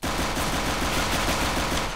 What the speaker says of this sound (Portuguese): Mais uma ronda de pistola.